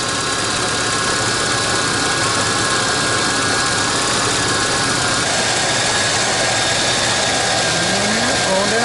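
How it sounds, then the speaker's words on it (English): A 1993 GMC Sonoma work truck's engine idles steadily and loudly up close, a continuous droning hum with a faint rising whine near the end as the idle settles. "Takes a long time for the idle to come down."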